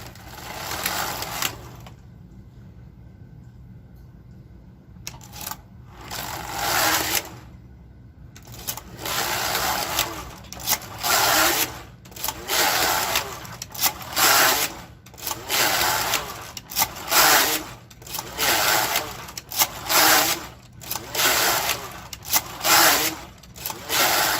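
A domestic knitting machine runs rows of waste yarn on its back bed, the carriage rasping back and forth in a steady series of loud, repeated whirring passes separated by brief pauses, after a quiet start.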